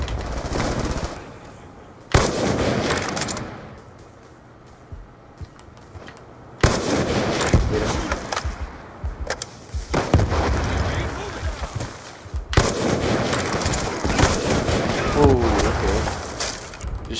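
DSR sniper rifle shots in a video game come as three heavy, booming blasts spaced several seconds apart, each with a long rumbling tail, loud and close.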